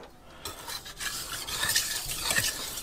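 A knife blade scrapes back and forth across the smooth side of a wet whetstone, making soft rhythmic rasping strokes, close but quiet.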